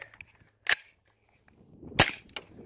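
Two sharp suppressed gunshots from a Form 1 homemade suppressed firearm, fired outdoors, the second louder and followed by a quick metallic echo or clatter, with quiet pauses around them.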